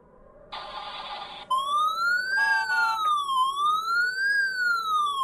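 An ambulance siren in the Frosty Nights horror video game starts with a brief buzzing tone, then wails up and down in a steady, loud, repeating sweep.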